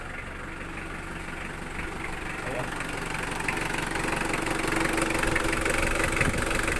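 A Mitsubishi Adventure engine idles after an alternator, steering and aircon fan belt replacement, giving a steady close mechanical hum and rattle that grows slightly louder, while someone says a word over it.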